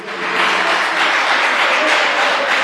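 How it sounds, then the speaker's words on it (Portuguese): A church congregation applauds during a worship service, a dense, steady wash of many hands clapping together, loud and close, with voices mixed faintly into the roar. "Aplauda mais uma vez o nome dele."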